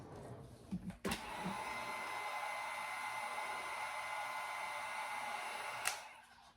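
A handheld dryer blows steadily on alcohol ink coating a tumbler, a constant whooshing hum that switches on with a click and runs for several seconds before cutting off.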